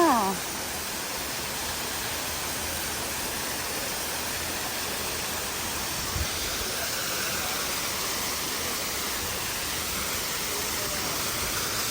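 A waterfall on a small stream roars as a constant, even wash of broadband noise that fills the whole scene. One brief thump occurs partway through; no clear speech stands out.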